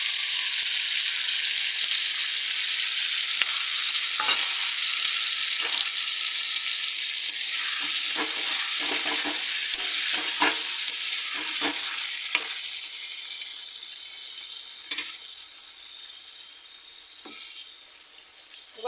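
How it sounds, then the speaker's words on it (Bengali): Soy, chilli and tomato sauces are stirred into a hot frying pan for chilli fish, giving a steady broad sizzle with repeated soft scrapes and clicks of a spatula, close and with no talk. "এবারে সয়া সস, চিলি সস আর টমেটো সস তিনটেই একসঙ্গে মিশিয়ে দিয়ে দিচ্ছি"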